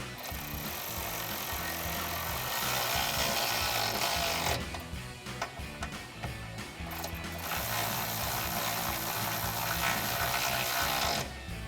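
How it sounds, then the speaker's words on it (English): A ratchet with a 13mm socket tightens bolts on a truck's nerf side step bar brackets, giving a continuous close run of fast clicking with a brief change partway through, and no voices. "we can take a 13mm socket to tighten that down"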